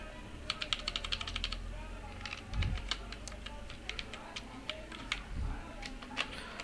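Code typed on a computer keyboard for a Python exercise: quick runs of close, light key clicks in uneven bursts, with a couple of dull low thumps between them.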